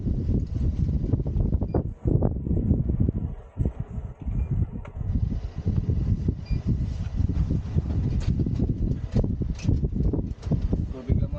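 Heavy wind at Sorano Park, Japan, buffets the microphone in a constant low roar with gusty swells, and a faint voice can be made out beneath it.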